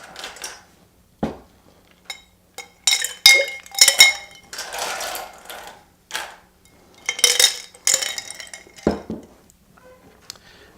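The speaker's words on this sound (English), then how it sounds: "So you want to add our ice." Ice dropped into a cocktail mixing glass and stirred for a Star Cocktail: loud clattering cubes, then repeated glassy clinks and rattles in uneven bursts, close and alone with no talking.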